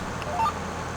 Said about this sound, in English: kind of hear that little bleeping sound.